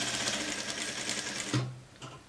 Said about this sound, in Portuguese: eu vou costurar com linha preta, que assim dá para todo mundo ver, costura, costura e costura